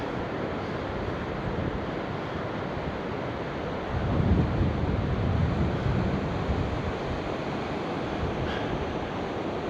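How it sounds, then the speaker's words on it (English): Rough sea at Seaham crashing and splashing over the harbour wall, a continuous roar of surf swelling louder midway, mixed with heavy wind buffeting the microphone. "It's all splashing well over harbour wall up there."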